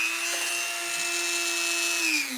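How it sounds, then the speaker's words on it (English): A Dremel rotary tool smooths the friction surfaces of an aluminum sway bar disconnect case from a Jeep Rubicon, giving a steady high-pitched motor whine that holds even, then shifts slightly in pitch as the load changes near the end. "I dremeled all friction surfaces for smooth action."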